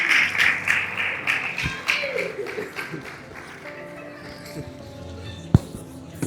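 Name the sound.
audience applause for a pastor in church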